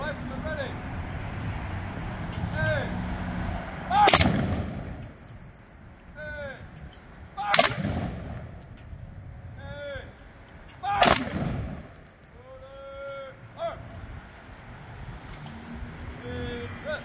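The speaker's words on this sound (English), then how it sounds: "It's our 21-gun salute and honoring our veterans." Rifle volleys of a 21-gun salute at a Veterans Day ceremony in DeKalb, Illinois: three loud, sharp cracks spaced a few seconds apart, with murmuring voices and bird calls in the quiet gaps between.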